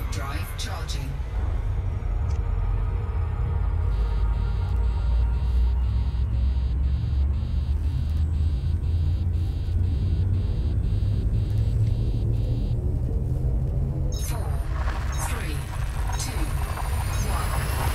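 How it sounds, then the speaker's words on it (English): Frameshift drive charging aboard a ship in the space game Elite Dangerous Odyssey, a steady loud low rumble and hum with a pulsing high tone across the middle of the clip, then a rising surge near the end, with a voice talking over it. "Frameshift drive charging."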